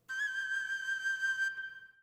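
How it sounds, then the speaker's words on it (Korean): A virtual flute in a Cubase session holds one bright sustained note that fades out after about two seconds, quiet and solo. The expected quick grace-note ornament is not clearly visible at the start. "이 키 스위치 같은 경우에는 꾸밈음을 해주는 그런 키 스위치라서 이런 소리가 납니다."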